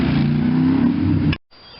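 A Kohler CV460s engine on a John Deere LT160 lawn tractor catches and runs loud and steady for over a second, then cuts abruptly to near silence before a faint hum resumes.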